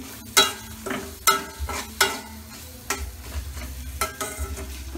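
Green chilli and ginger stirred in a hot pan, with a spoon scraping in repeated uneven strokes over a steady low sizzle, close and fairly loud, no talk.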